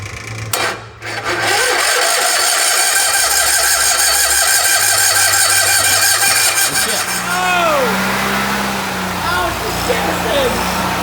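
A rebuilt Cushman vehicle engine cranks and catches, then runs with a loud, steady mid-pitched roar close by, revving slightly with a whining rise near the end while people talk over it.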